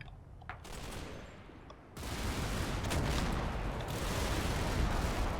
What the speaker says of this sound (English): there is some AA fire going out